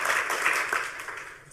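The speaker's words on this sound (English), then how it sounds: "do some clapping so they can hear it on the video too" Audience at an open source hardware talk applauds, a close burst of many hands clapping that fades out toward the end.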